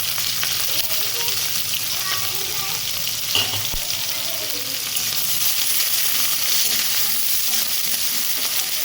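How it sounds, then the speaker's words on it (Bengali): Onion fries with cumin seeds and green chilli in hot oil in a pan, a loud, constant sizzle broken by a brief scrape or knock of stirring partway through. "পেঁয়াজটা দিয়ে দেবো।"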